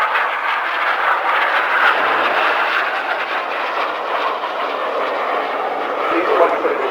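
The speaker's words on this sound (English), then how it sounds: "This is the carousel." RAF Red Arrows jets flying the carousel manoeuvre at an air festival roar in a continuous loud jet wash, with a commentator talking over it throughout.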